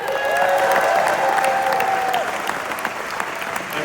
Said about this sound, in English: So if you can give a big round of applause for one of the producers, Colleen Camp.